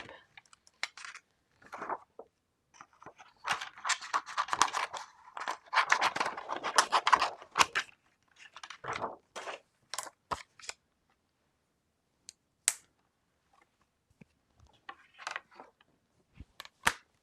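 Scissors snipping vellum for card making at a craft desk, a quiet series of crisp cuts and paper rustles in irregular bursts with pauses between.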